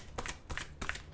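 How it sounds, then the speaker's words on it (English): Tarot card decks being shuffled up close, three crisp riffling bursts in quick succession with soft papery flutter between them, no voices. "So I shuffled both my decks twice."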